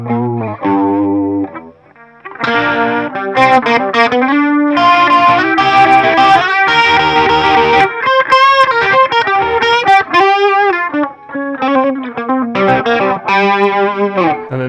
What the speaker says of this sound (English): if you put loads of distortion in there and leave the chorus on